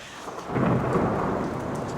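Rain falling outdoors with thunder rumbling through it, a steady wash of downpour that swells into a low, rolling roar before settling back, loud and close with no voices.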